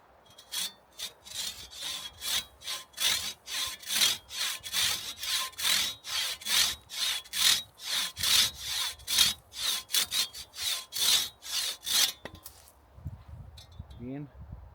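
An Ox bow saw cutting through wood in steady, rhythmic back-and-forth strokes, about two per second, loud and close for most of the clip before stopping near the end.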